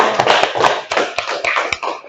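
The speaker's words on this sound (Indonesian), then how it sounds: "Sekali lagi tepuk tangan untuk masing-masing kelompok." Applause from a classroom of students for their group presentations in a sociology lesson: a dense, steady patter of many hands clapping at close range, with sharper individual claps standing out.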